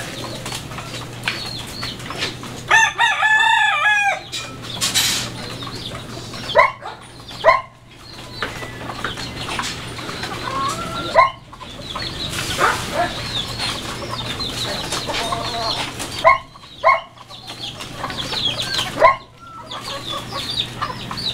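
Chickens cluck and squawk at feeding time in a backyard coop, with scattered wing flaps and a few sharp bursts of louder calls over a low steady hum, and no talking.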